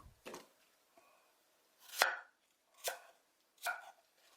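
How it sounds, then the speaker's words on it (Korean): Several sharp knife strikes on a cutting board chopping carrots and apples, spaced unevenly, close and fairly quiet, with no talking. "당근은 작게 잘라서 준비를 해주시고"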